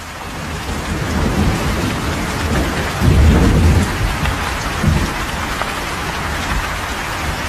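Record-breaking heavy April downpour in Qinzhou, Guangxi, China, heard as dense, steady rain hissing on surfaces, with a low rumble of thunder swelling midway, loud and close throughout.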